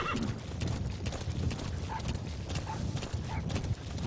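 Hooves clop in a steady rhythm while short whinnying calls break through, with soft mechanical clatter in the background, from a horse in the video game Metal Gear Solid V: The Phantom Pain.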